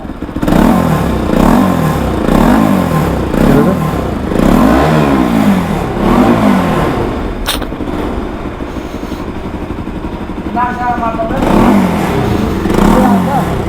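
A Bajaj NS200 motorcycle with an engine noise fault revs repeatedly, loud and close, in a series of rising and falling throttle blips, then settles into a rough idle before revving again.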